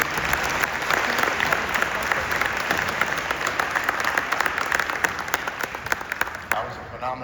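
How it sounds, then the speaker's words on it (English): A large audience at a junior white coat graduation for a children's science academy at Charles Drew University applauds the keynote speaker, with sustained dense clapping that holds steady for about seven seconds before tapering slightly at the end. "let's give our keynote speaker a round of applause again"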